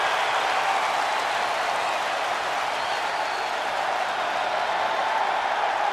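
Crowd applause in the wrestling video game WWE 2K23 during an ECW show: a steady, dense wash of arena clapping and cheering throughout, fairly loud and even, with no clear talk.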